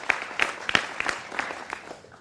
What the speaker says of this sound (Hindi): जोरदार तालियों के साथ अभिनंदन करिए